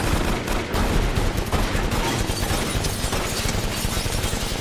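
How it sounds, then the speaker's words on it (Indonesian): In a film scene, members of a Yakuza gang panic and fire pistols wildly in all directions, producing a dense, unbroken barrage of loud gunfire with no pauses. "menembakkan pistol ke segala arah secara membabi buta."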